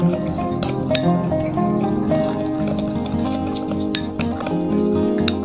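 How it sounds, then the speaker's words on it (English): A spoon stirring a coffee remedy in a glass, with sea salt among the ingredients: a quick series of light, bright clinks and ticks over a steady low background hum. "Now mix again very well."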